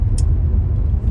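Low, steady engine rumble inside a moving car, a continuous deep hum with one brief higher click near the start.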